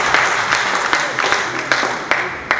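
An audience at a marathon prize distribution ceremony applauds to welcome the runners, a dense, steady patter of many hands with a few sharper claps standing out, close and loud.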